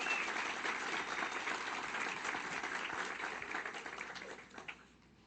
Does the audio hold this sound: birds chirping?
no